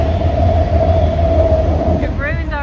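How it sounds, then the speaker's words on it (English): Train rumbling past near a canal bridge, a loud steady low roar and hum close by, with a brief squealing warble near the end as it goes. "I think there's a train coming."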